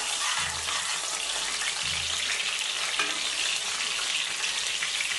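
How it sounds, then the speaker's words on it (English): Green chillies and curry leaves fry with onions for a radish sambar, a steady close sizzle with scraping stirs of the pan running throughout, no talking. "add in green chillies and curry leaves"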